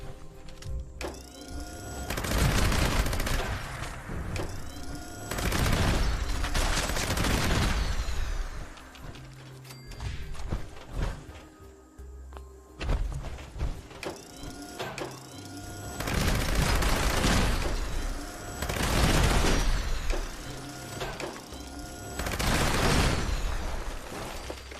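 Shotgun blasts in the video game Fallout 76, several loud broadband booms in irregular bursts, each heavy shot spreading into a crackling wash before the next volley.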